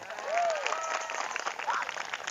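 Audience applause at a Sundanese religious sermon, a steady wash of clapping from a crowd lasting throughout, with a voice faintly audible over it.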